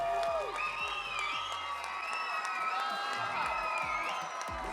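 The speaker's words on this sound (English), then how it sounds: "Got their own cheering section and everything" A wedding crowd in Toronto applauds and cheers loudly for the bride and groom, with whoops, high whistles and excited shouts layered over continuous clapping throughout.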